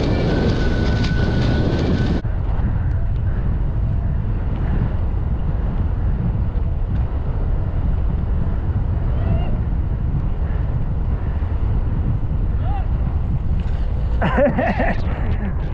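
Light wind buffets the microphone while wingfoiling on open water, with a steady low rush of wind and water throughout and a brief louder flutter near the end.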